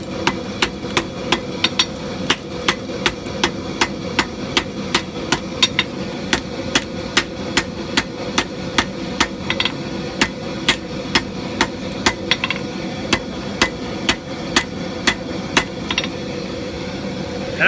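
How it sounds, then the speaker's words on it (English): A hand hammer strikes canister Damascus steel at welding heat on an anvil, a long run of sharp, ringing metallic blows in a steady rhythm with brief pauses, loud and close over a low background hum. "I'm going to hammer, turn 90 degrees, hammer, and try to kind of compress it in on itself"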